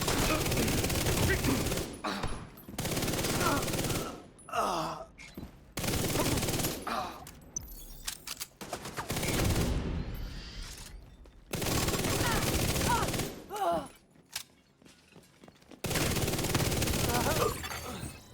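Video-game gunfire from a deployed turret and enemy soldiers comes in loud, dense bursts of rapid shots, broken by short quiet gaps, with a voice speaking between the volleys.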